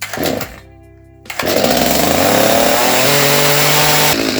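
A chainsaw roars loudly and continuously after a brief dip while cutting wood, its engine revving high and holding steady, close by.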